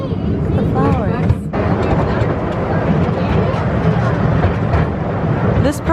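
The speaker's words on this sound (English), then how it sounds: "A lovely relaxing train ride." Steady loud rumble of a moving theme-park train carriage at Drayton Manor, continuous rolling noise throughout, with a few people talking underneath.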